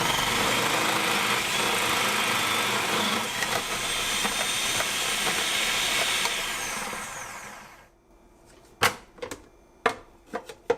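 Cuisinart Elemental 8 Cup food processor shredding potatoes on high, a steady loud motor whir with grinding texture for about eight seconds, then it cuts off and a few sharp knocks and clatters follow.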